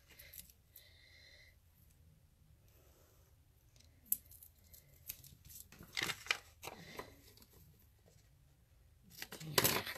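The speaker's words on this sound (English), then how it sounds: "My scissors, my snips here. I'm going to go with some of these pieces like this." Scissors snip through paper pieces for card-making and stamping crafts: a few quiet, sparse cuts, the sharpest near the middle and at the very end, with soft handling rustle between them and no talking.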